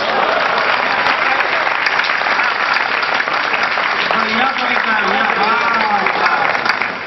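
Audience applause at a kavi sammelan, a Hindi poetry recital held for Manak Jayanti by The Youngs Club of Sujangarh. Dense, steady clapping fills the whole stretch, and a voice talks over the later part.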